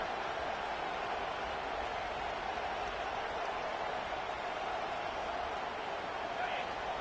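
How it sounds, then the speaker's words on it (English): A large college football stadium crowd roars in a steady, dense wash of cheering and noise that holds at the same loud level throughout. "This crowd bringing the energy and noise early."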